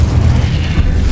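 Fire spell blast from the Hogwarts Legacy video game, a loud, close, continuous roaring whoosh with heavy low rumble lasting about a second.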